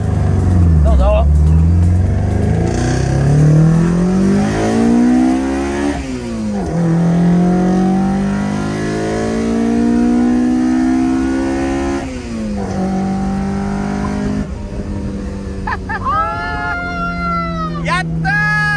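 A Toyota AE86 with a 4A-GE 20V engine revs hard on a country road, its rising howl climbing through repeated gear changes from close by, with voices talking over it.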